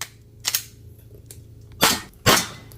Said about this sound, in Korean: 재장전을 하고 다시 사격을 이어갔는데